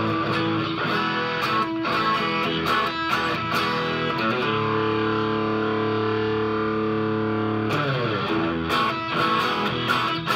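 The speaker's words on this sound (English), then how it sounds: "Let's turn that drive up." Electric guitar run through an overdrive effect with the drive turned up, sustained thick distorted chords and notes ringing continuously with brief strummed attacks, loud and alone without talking.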